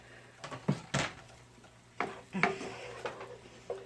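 Sliced yellow onion being sautéed in a pan while making chicken and biscuits, heard as a faint sizzle under scattered scrapes and clinks of a utensil stirring against the pan in irregular bursts.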